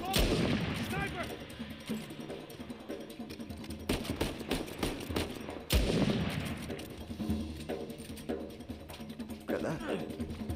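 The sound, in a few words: gunfire in the video game Uncharted 4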